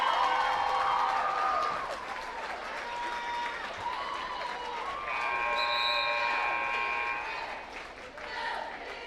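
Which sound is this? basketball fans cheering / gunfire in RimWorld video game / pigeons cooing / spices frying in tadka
basketball fans cheering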